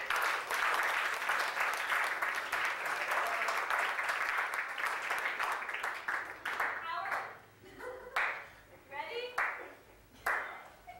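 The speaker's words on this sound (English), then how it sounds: "let's just give a round of applause to Don's good friend Howard" Dense audience applause at a retirement event fills the first half, then thins into scattered claps as a voice begins talking over the fading clapping.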